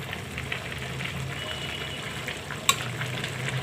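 A pot of Malabar spinach curry with hilsa fish head, tail and potato hisses with a steady close sizzle while being stirred, with one sharp clink of the spoon against the pot partway through.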